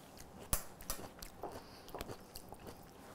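Someone bites into and chews homemade apple pie filling up close, making soft crunches and wet mouth noises in an irregular rhythm, with no talking.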